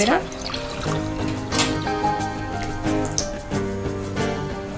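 Measured water is poured into a pot for rava pongal, a continuous splashing pour heard under a steady tonal background, with a few brief louder surges.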